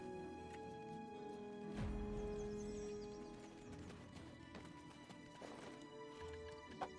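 Horse in the Black Desert Online video game, with steady clip-clop hoofbeats throughout and a loud whinny near the start against a busy game soundscape; no one speaks.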